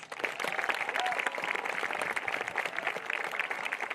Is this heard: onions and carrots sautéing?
no